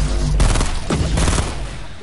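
A burst-fire assault rifle in a battle royale video game lets off quick rapid-fire volleys, loud and close, with sharp repeated cracks and booming low end.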